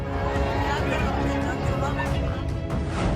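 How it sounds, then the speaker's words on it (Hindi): A dense crowd at a Prashant Kishor Jan Suraaj rally, mobbing the biryani, makes a steady, loud babble of many voices and shouting throughout. "नेताजी को सुनने आई भीड़ बिरयानी पर टूट पड़ी।"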